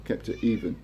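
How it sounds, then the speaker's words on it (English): A pet cat meows for attention, a few short, close calls in quick succession, partly tangled with a person speaking a word at the same moment. "My cat's having a meow, wants some attention."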